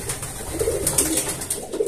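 Pigeons coo softly and repeatedly nearby, low rolling calls overlapping one another with a faint flutter of background noise.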